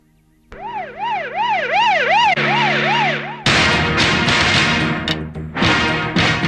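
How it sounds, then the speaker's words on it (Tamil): An ambulance siren starts abruptly and cycles through a fast wailing pattern, then shifts to a harsher, choppier tone, loud and near with traffic noise beneath. "இந்த ஆம்புலன்ஸ் அடிக்கடி வருதே"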